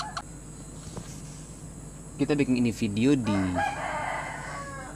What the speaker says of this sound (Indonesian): kebetulan kita piara ayam, jadi memang suara-suara ayam dirapa dengar